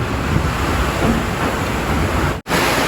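Heavy rain with strong wind roars as a dense, steady hiss over an aviary loft, broken by one brief drop-out near the end.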